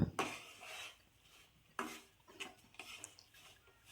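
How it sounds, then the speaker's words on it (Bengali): Semolina with peanuts and raisins being stirred and fried in a pan, close scraping and clinking strokes of a spoon against metal in irregular bursts, fairly quiet. "বাদাম আর কিশমিশ সুজিগুলো ভালো করে মিশিয়ে নিয়ে আর একটু সামান্য ভালো করে ভেজে নিয়ে"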